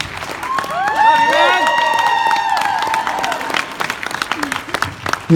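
A convention crowd at Dallas Fan Days 2018 cheers and applauds for actor Manu Bennett. A loud, sustained roar with a prominent whooping shout fades after a few seconds into scattered claps and murmurs.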